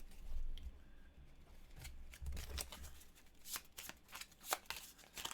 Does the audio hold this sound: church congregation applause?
no